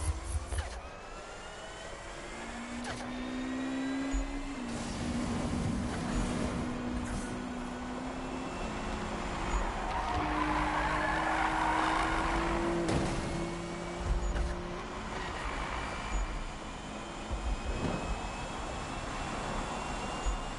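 Car engine in a PS4 driving game, a steady mechanical drone with a rising and shifting engine tone running throughout at moderate loudness, no talking.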